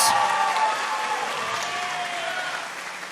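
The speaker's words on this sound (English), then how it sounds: "a round of applause for both of these amazing athletes" Crowd at an MMA event applauding both fighters before the judges' scorecards are read, sustained clapping and cheering that slowly tapers off.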